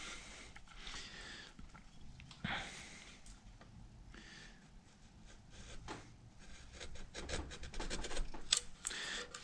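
A hand gouge carves a chamfer along a wooden edge, giving quiet, repeated rasping and scraping strokes at close range, with no talking.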